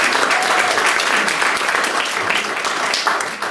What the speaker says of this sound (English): A round of applause for Anne.